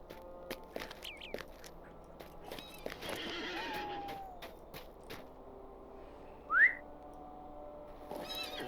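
A whistle calls a mount in the Lord of the Rings Online MMORPG, followed by a sharp horse whinny and soft hoof clops, with faint background ambience and light footsteps around it.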